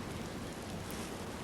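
Steady, soft rain in a foggy drizzle over a Czech marsh in the hunting game Hunting Simulator 2, a dense even hiss that carries on unbroken with no talking.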